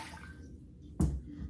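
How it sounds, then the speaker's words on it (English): Water poured from a cup into a small sauce pot, heard as one short splashing gush near the end, close by in a quiet kitchen. "I am going to put 1 cup of water into my sauce pot"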